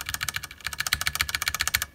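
Rapid, crisp clacking keystrokes on a Duck One Two Mini mechanical keyboard fitted with Cherry MX Red switches, close and loud, in an even fast typing rhythm with no talk.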